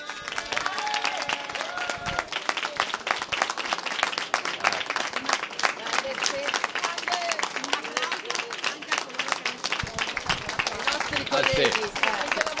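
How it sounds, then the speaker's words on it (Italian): An audience claps at an evening gathering for emergency room staff, a dense, sustained round of applause from many hands close by with some crowd noise mixed in. "allora facciamo un bel applauso a tutti i pronto soccorso"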